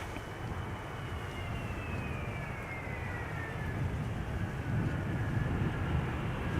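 Air France airliner on final approach arriving at Amsterdam Schiphol, a distant broad roar that slowly swells with a faint descending whine, alone and without voices.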